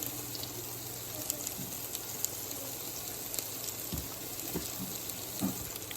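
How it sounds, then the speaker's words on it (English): Spinach with turkey fries in a pan, a faint, steady sizzle with scattered small pops and crackles running continuously in the background. "So I'll let this fry for about 5 minutes"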